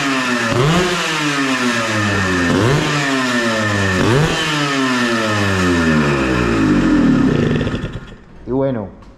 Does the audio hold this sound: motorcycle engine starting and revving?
yes